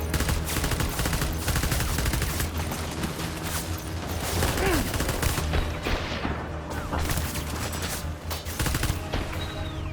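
Gunfire from Death Stranding Director's Cut, with rapid, loud, sustained bursts of shots and mechanical clatter running continuously under a busy game soundtrack.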